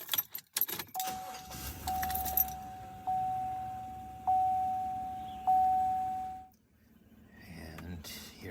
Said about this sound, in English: let me get my car started.